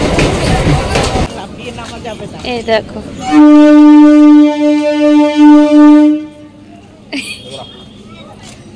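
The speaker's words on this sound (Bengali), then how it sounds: "ট্রেনটা ঠিক টাইমেই চলে এসছে" A loud, steady train horn blares for about three seconds from a passenger train at the platform, with voices talking before and after it and station bustle around it.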